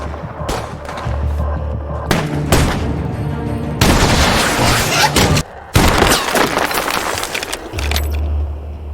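Bursts of heavy gunfire laying down covering fire in a war setting, loud sustained volleys and booms broken by short pauses, with no talk.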